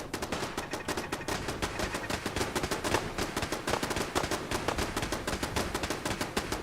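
Rapid, sustained gunfire from laser and ballistic weapons in the video game Fallout 4 with the Sim Settlements 2 mod, dense repeated shots rattling continuously and loudly with no pauses.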